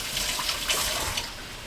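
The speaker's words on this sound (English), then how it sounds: "Wash my hands off." Hands being rinsed under a running kitchen tap, a brief close gush of water with soft splashing, steady and unaccompanied by speech.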